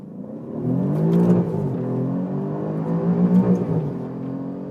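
An Alfa Romeo Giulia Quadrifoglio accelerates hard in race mode, its engine note rising in a steady surge with a brief dip at a gear change before climbing again, loud and close from inside the car.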